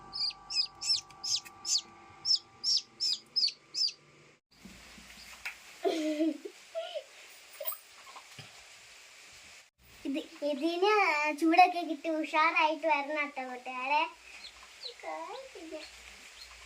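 A rapid series of high, regular chirps opens, like newly hatched black chicks (Kadaknath-type) peeping, followed by someone talking with occasional clucking-like sounds.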